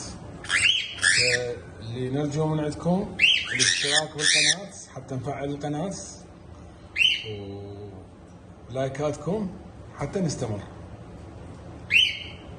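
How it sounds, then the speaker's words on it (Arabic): Sharp cockatiel squawks and whistles pop out intermittently over someone talking steadily in Arabic nearby. "هذا الطير الكوكتيل شوفه قدامك."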